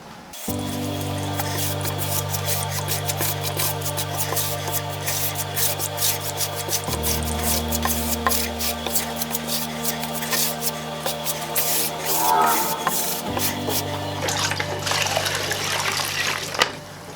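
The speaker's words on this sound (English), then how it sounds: "So let's grout these glass tiles" Steady wet rubbing and swishing close by, a grout float dragging across glass tiles with a continuous low hum running underneath throughout.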